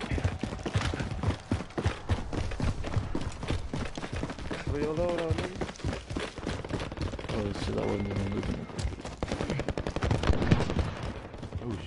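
Rapid bursts of gunfire crackle through a PS4 shooter match, dense and continuous over about twelve seconds, with voices talking beneath and between the shots.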